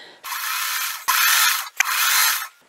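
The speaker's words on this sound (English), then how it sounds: "So I'm just going to sew them together." A sewing machine stitches fabric scraps together, running in three steady whirring bursts separated by brief pauses, close and fairly loud with no talking.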